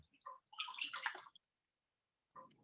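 Mixed sauce poured into a cooking pot, a soft wet gurgling splash for about a second, then silence and a brief drip.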